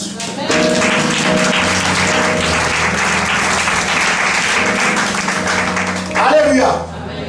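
A church congregation applauds steadily for several seconds, a loud, dense wash of clapping with voices calling out over it, before it tapers off near the end.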